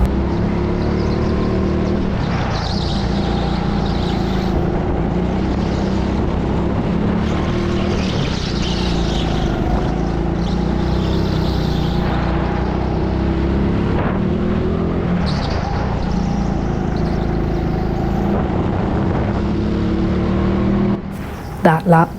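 A racing kart drives a qualifying lap at TS Dunstable on a cold track with tyres not yet warmed up, its engine a loud, close, continuous droning roar that rises and falls slightly before cutting out abruptly at the end.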